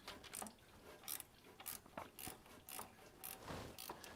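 A ratchet wrench loosens a bolt on the power steering pump of a Jeep Wrangler, giving a run of quick clicking pawl bursts in uneven strokes, close but fairly quiet, with no talk.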